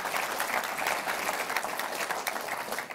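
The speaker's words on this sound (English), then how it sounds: "just give them a quick round of applause" Audience at a business conference in New York claps in a steady, dense round of applause that fills the room at an even, moderate loudness throughout.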